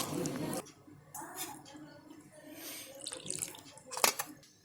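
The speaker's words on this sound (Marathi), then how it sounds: "थोडं थोडं करून पाणी टाकायचं." Water is poured bit by bit into gram flour batter for besan dhirde, a short burst of splashing and trickling followed by soft stirring and drips, with a voice speaking over it.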